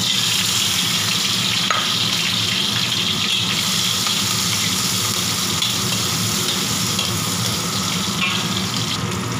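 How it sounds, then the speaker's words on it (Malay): Lemongrass and four chillies sizzle in hot oil, a loud continuous crackling hiss that holds steady throughout. "Saya letak cili 4 biji. Minyak dah panas, kita masukkan."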